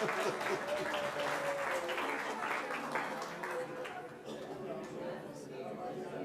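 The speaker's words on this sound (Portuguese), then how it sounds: "Uma salva de palmas para ele aí" An audience at a book launch lecture on political parties and compliance applauds, the clapping loud at first and then tapering off as chatter and a voice continue underneath.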